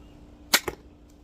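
An extremely deadly automatic crossbow looses bolts in two quick sharp snaps, a hard thwack followed a beat later by a second, close and loud against a quiet background.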